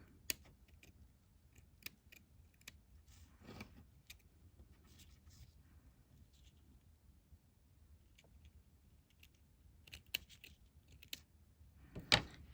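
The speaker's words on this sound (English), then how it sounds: "Then I'm gonna trim." Scissors trimming a paper lace dress for a junk journal, with quiet, scattered snips and clicks at an uneven pace against a near-silent room.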